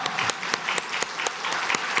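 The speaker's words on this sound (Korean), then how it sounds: "우리 박수로 격려합시다." Church congregation applauding during a Sunday evening service, a steady, fairly close patter of many hands with regular sharper clap accents throughout, no talking.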